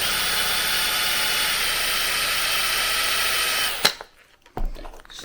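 Power drill driven slowly into a wood camera-mount block, a steady high whine running alone for several seconds before stopping, followed by a couple of handling knocks.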